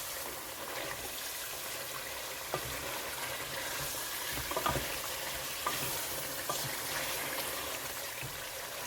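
A haleem mixture fries with yogurt, giving a steady, moderate sizzle with a faint wet bubbling edge, now and then a soft scrape or clink of stirring, no one speaking.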